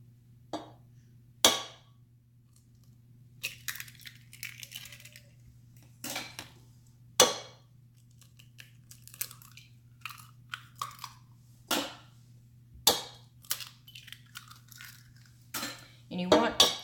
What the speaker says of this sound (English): I'm going to get my eggs in here